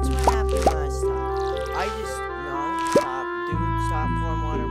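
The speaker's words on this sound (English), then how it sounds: "Stop pouring water when water doesn't need to be." Watering can pouring water in the farming video game Stardew Valley, short watery plop and drip effects recurring a few times over game music with a tonal melody.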